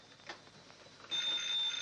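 A telephone rings in a quiet room, a bright metallic bell tone that swells from faint to steady and loud over a couple of seconds, with no one speaking.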